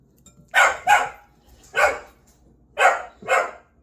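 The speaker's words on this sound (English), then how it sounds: "Sounds like we got a dog a little mad at a cat in the background." Five sharp, loud dog barks come in uneven pairs and singles with short silences between, aimed at a cat and fairly close.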